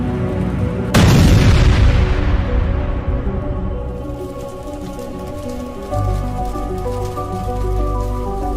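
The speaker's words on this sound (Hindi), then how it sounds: "तभी बुल्ली की कार जाकर उस गाड़ी में टकरा जाती है, जिससे एक जोर का धमाका होता है" A cartoon car crashes into a bus and explodes, with a sudden loud boom followed by a long rumbling, crackling decay over a low musical drone that swells again near the end.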